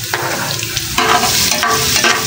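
Garlic sizzles and fries in a hot pan for a home-cooked chicken sinigang lunch, a steady close crackle that swells louder midway as it is stirred, with no talking.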